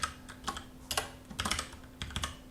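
Quick bursts of key presses on a computer keyboard as code is typed into a Python Jupyter notebook, irregular clusters of close, soft clicks with short pauses and a faint steady hum underneath.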